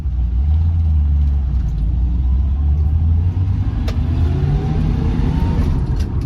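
A 1973 Ford Maverick with failing brakes driving along, its engine giving a deep, steady rumble from inside the car, with low drone shifting gradually in pitch as it moves, loud and continuous with no talk.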